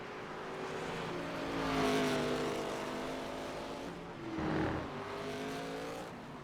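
ARCA race cars on a Wine Country road course brake hard into a hairpin and accelerate away, their engines roaring loudly with rising and falling pitch sweeps as they pass close by, with no talk.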